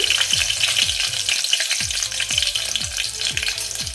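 Curry leaves dropped into hot oil with crushed garlic over a lowered flame, crackling and sizzling loudly and continuously, with a spoon sweeping the pan in a regular rhythm.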